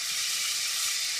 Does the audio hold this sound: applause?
no